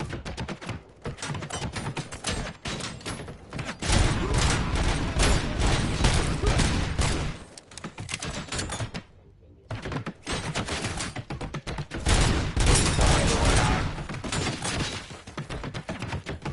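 Heavy, sustained gunfire in the game Robocop: Rogue City, loud rapid bursts and machine-gun fire filling the stretch with impacts and shattering, pausing briefly before resuming just as intense.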